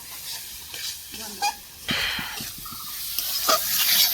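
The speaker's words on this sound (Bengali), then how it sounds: "আমি সব মশলা কিন্তু ভালো করে দিয়ে আলুটাকে ভেজে দেবো" Potatoes fry with chilli and turmeric powder in a village kitchen, a soft sizzle and hiss with scattered stirring scrapes and clinks, fairly close and steady throughout.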